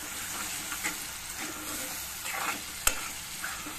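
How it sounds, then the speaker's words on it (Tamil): Boiled jackfruit seeds are stirred into masala frying in a pan. A steady sizzle sits under repeated scraping stir strokes, with one sharp clack near the end. "நம்ம இந்த பலாக்கொட்டை வேக வச்சு வச்சோம் இல்லைங்க, அதை போட்டு அப்படியே நல்லா கலரலாங்க."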